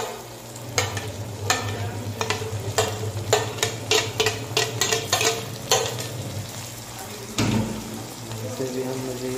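Tomatoes and green chilies hissing and sizzling in a pan for macaroni, with repeated clattering spoon strokes stirring against the metal and a low steady hum underneath.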